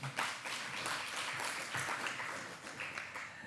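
An audience at a sustainability summit applauds as a guest speaker is introduced, steady, fairly faint clapping from a crowd filling the whole stretch with no clear talk.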